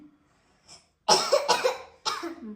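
A few loud, close coughs from children in quick bursts, preceded by a soft breath, with nothing else in the background.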